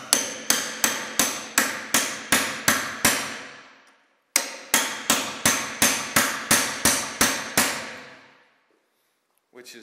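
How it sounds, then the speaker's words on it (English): A copper hammer strikes a metal seam in two sharp rhythmic runs of about nine ringing blows each, loud and close, separated by a short pause, each hit leaving a brief metallic decay. "I'm using a copper hammer because it doesn't slide off"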